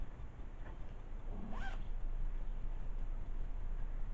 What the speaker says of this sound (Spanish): Lleva aquí una cremallera.